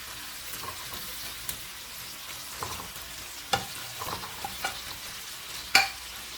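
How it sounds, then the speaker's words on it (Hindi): Chicken pieces tipped into browned, fried masala in a pan for Chicken 65, giving a steady soft sizzle with a few sharp clinks and scrapes of stirring, close and alone without talk. "अब हम इसमें अपनी चिकन डाल देंगे।"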